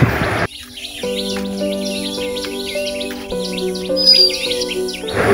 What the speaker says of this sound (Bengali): আপনারা শুনতেই পাচ্ছেন চারদিকে পাখিদের কিচিরমিচির